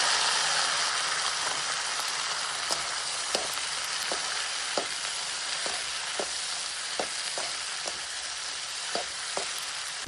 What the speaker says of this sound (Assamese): এতিয়া দি দিম সিজাই থোৱা মটৰ আৰু আলুখিনি।